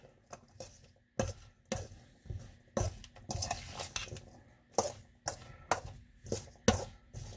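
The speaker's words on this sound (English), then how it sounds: "Mix that all up." Spoon stirring mango salsa in a bowl, giving a run of clinks and scrapes in uneven bursts, close and fairly clear, with no voices.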